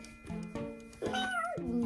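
A girl imitates a cat, giving several close, fairly loud whiny meows in quick succession, ending in a longer drawn-out meow that rises and then falls in pitch, with no talking.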